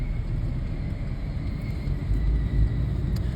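A car rolls through the streets of Lusaka, heard from inside as a steady low road rumble and engine hum with brief bumps and thumps.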